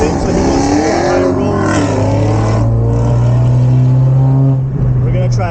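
A V8 car holds a steady, loud engine drone through a 65 mph roll race, the tone rising gradually as it pulls hard, with a voice talking over it.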